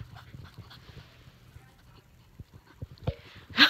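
Dogs making scuffling and whimpering noises close by, with soft panting, irregular thumps and short yelps that build to a sharper cry at the end; no talk.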